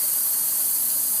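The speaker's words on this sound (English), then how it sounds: "get that all sauteed within the dish as well" Garlic sautéing in a pan as part of a healthy home-cooked dish, a steady soft hiss and sizzle throughout, close and moderately loud with no talk.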